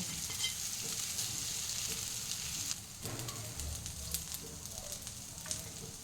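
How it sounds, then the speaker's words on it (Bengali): Onion and grated ginger fry in a pan for a prawn malaikari, giving a steady close sizzle with occasional stirring scrapes and faint shifts in intensity. "আমি কিছুটা আদা গ্রেট করে রেখেছি, এটাও এর সঙ্গে খানিকটা ভেজে নেব"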